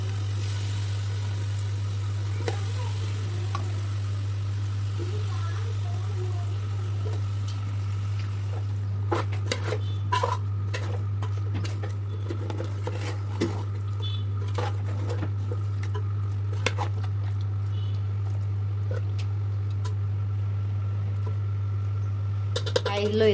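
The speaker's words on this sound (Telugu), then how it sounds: "సో చికెన్ అనేది మ్యారినేట్ చేసుకున్న చికెన్ని ఇప్పుడు మనం ఫ్రై చేయాలి కొంచెం దమ్ కోసం" Marinated chicken pieces frying in oil in a pot for biryani, a faint steady patter and sizzle with scattered crackles and clicks over a constant low hum, no talk.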